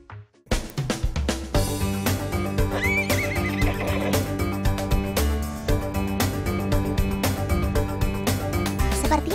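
Horses neighing over a continuous loud music bed, with faint hoofbeats from a palace stable's horses exercising and running; the whinnies rise briefly above the steady music.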